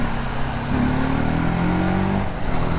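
A 300cc motorcycle engine revs under load while riding, a loud, close engine note rising in pitch amid steady wind rush.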